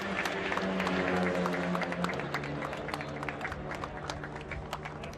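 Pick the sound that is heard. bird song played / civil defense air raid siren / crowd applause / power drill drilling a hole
crowd applause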